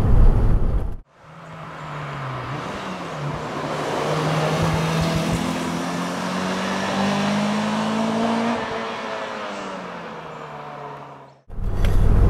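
A Lotus Elise R sports car drives on the road, its engine droning steadily from inside the cabin as the pitch climbs gradually under acceleration and then eases off, with strong road and wind noise throughout.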